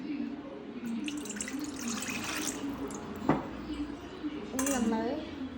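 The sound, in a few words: water being poured into a large pot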